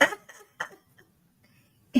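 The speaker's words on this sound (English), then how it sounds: "cough. Bad cough." A few short, harsh coughs in bursts, separated by brief pauses, fairly close and moderately loud.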